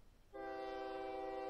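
A train in the OpenTTD video game sounds a sustained, tonal horn that starts abruptly and holds steady and fairly loud to the end, alone without talk.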